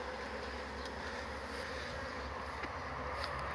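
Honey bees at an apiary beside blooming phacelia buzz in a steady, dense drone that never lets up, a constant hum of many insects close by.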